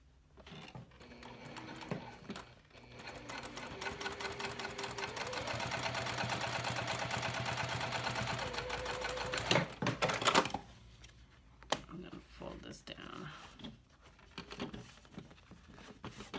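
A sewing machine top stitching cork fabric runs in a steady, whirring, close-up burst for several seconds, then stops, followed by a few clicks and handling noises of the fabric.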